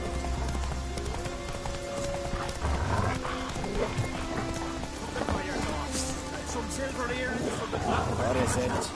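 Horse hooves clip-clop at a gallop in The Witcher 3 video game, a steady rhythmic beat under game music and ambience, with a whinny and occasional voices.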